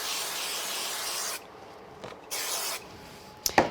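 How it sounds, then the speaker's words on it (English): Two bursts of aerosol spray glue hissing close by during card crafting, separated by a short pause, followed by a couple of light clicks. "but I'm going to use a little spray glue."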